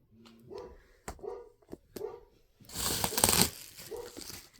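A pet dog barks a few times at something in the distance during a manga book unboxing, short sharp yaps spaced apart, followed by a loud burst of crinkling and tearing packaging close by.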